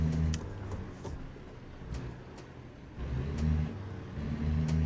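A car engine in a racing video game, played with a Logitech G29 wheel and shifter, revs up and eases off in waves, steady and fairly close, with a whirring mechanical tone and brief higher shifts.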